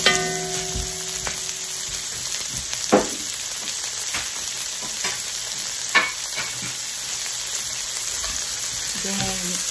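Bok choy and other vegetables stir-fry in a hot pan, a loud continuous sizzle with scraping stirs and a couple of sharper knocks, close up and with no talking.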